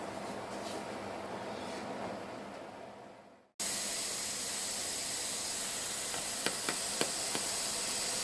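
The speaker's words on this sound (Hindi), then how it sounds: "लो जी, प्याज हमने डाल दिए हैं इसमें।" Sliced onions dropped into hot oil for Pakistani-style beef paya. A low background murmur cuts off abruptly into a loud, steady hiss and sizzle close by, with a few crackling pops near the end.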